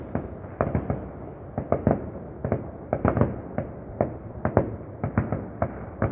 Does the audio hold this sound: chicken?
no